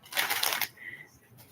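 Tarot cards riffle in one brief, crisp shuffle lasting about half a second, close and fairly quiet, followed by a faint soft rustle as the deck settles.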